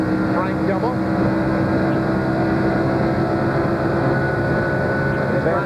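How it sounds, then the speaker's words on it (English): On-board engine of Frank Kimmel's ARCA stock car at Michigan Speedway in 1997, a loud steady drone that eases off and then pulls back up under acceleration, with a commentator talking over it. "We hear him back off the accelerator and turn. Back on the gas."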